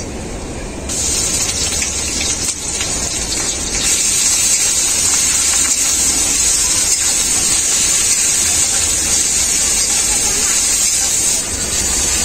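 Ground onion paste fries in hot oil in a pan for a fish curry, giving off a loud, steady hiss and sizzle that runs unbroken to the end.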